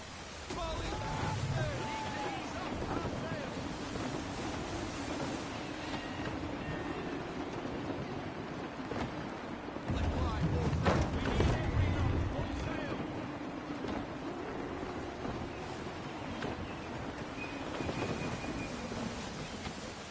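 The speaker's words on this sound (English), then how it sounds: "Wind looks to be shifting. Stay alert, Connor. Gusty winds can be difficult to manage." Gusty wind and rolling waves at sea in Assassin's Creed III make a continuous broadband rush with surging swells, heavier around the middle, while a voice speaks over it.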